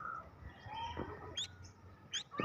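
Pet bird named Fire flying along a beach, with several short high chirps scattered over a steady background of surf and wind, some near and fairly clear, others fainter.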